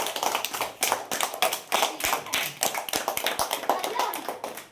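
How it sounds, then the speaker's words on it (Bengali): Children clap for a small magic performer, a burst of uneven, close hand claps in quick rhythmic bursts with brief pauses, with a voice speaking in between. "বাহ, তালি দাও সবাই"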